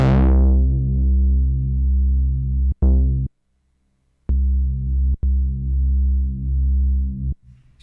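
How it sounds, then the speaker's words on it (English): Moog synthesizer bass built from saw waves, its filter swept so the bright upper harmonics close down into a dark, rounded tone; the sustained bass notes repeat loud and alone, cut by a brief dropout midway. "and do the filter sweep, which will sound like this."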